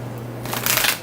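A large deck of cards being shuffled, one brief riffle that builds into a crisp, dense flutter of cards close up, with a low hum underneath.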